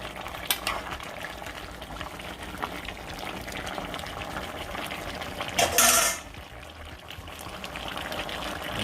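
Canadian beef stew simmers in a pot with a steady bubbling boil, and a brief louder burst of clatter or splashing comes midway.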